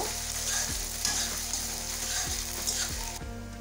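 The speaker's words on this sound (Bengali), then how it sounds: "পেঁয়াজ কুচি পেঁয়াজটা একটু ভেজে নেব" Chopped onion fries in a pan, a continuous bright sizzle with faint stirring and a low mechanical hum underneath, steady and close, without speech.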